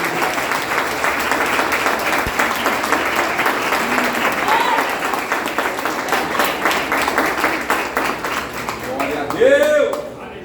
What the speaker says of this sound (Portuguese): Dá uma salva de palmas linda para você